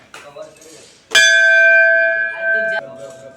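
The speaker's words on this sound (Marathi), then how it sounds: "घंटा वाजल्या" A single loud bell strike rings out sharply and sustains its clear tone for nearly two seconds before cutting off, with people talking softly before and after.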